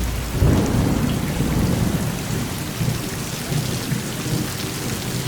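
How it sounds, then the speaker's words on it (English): A thunderstorm with heavy rain pounds down in a dense, continuous roar, and a low rumble of thunder swells early on and then lingers beneath the downpour. No one speaks. "thunder and heavy rain."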